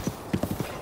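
Horse hooves galloping in Zelda: Breath of the Wild, a short run of dull clip-clop beats at a quick, uneven rhythm, moderately close with no talk.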